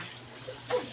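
Water splashes and trickles into a laundry washing basin, a soft pour that swells into a brief louder gush near the end.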